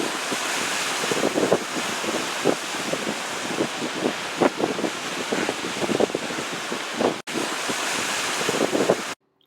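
Steady wind buffets the microphone over rolling ocean surf at Folly Beach, seen from condos facing east, with waves breaking in repeated surges throughout and a brief dropout near the end.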